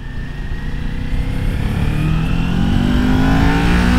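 A Kawasaki Ninja 400 motorcycle pulls hard in second gear on a highway, its engine note rising steadily under rolled-on throttle, loud and close, with constant wind and road roar and no talk.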